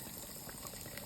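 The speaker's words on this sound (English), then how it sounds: "pour it in our cake mix" A 12-ounce can of Mountain Dew soda is poured into pineapple cake mix, giving a steady fizzy gushing liquid sound, close and continuous, with no talking.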